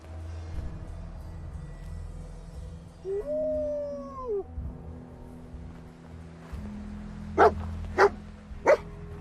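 Dog in Fallout 4 gives a drawn-out whining howl, then three sharp loud barks evenly spaced near the end, close against a low humming game ambience without speech.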